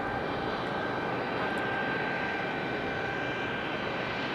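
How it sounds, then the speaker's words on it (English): An F-18 fighter jet engine roars steadily and loudly at a plane-spotting spot by Raleigh-Durham International Airport, a broad continuous rumble with a thin high whine running through it. "So it is the F-18."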